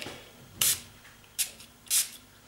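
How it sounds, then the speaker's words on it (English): Three short hissing sprays of shimmer spray from a pump mister onto a card, close by, with brief pauses between them. "I'm just going to spray it onto the card so it has a lot of shimmer."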